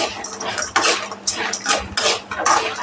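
Coconut and spices frying in a pan for a bitter gourd dish, with repeated scraping and stirring clatter of a utensil against the pan over a steady sizzle, close and fairly loud.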